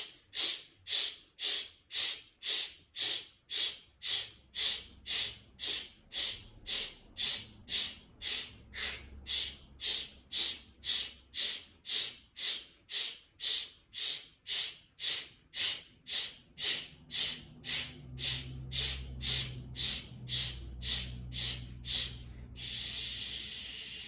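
Sharp, forceful exhales through the mouth repeat in a steady fast rhythm, about two per second, during a timed 30-second round of a breathing exercise, close and loud, easing into a softer rustle at the end.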